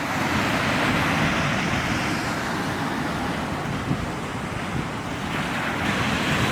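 Ocean surf breaks at an Outer Banks beach in North Carolina, a steady broad roar of waves mixed with wind buffeting the microphone, continuous and fairly loud with no voices.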